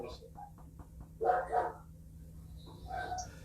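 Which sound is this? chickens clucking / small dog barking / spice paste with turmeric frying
small dog barking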